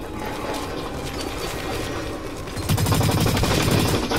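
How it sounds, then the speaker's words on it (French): A machine gun fires in a video game in rapid sustained bursts that grow denser and louder toward the end, with no one talking over the shots. "c'est une grosse mitraillette qui défonce"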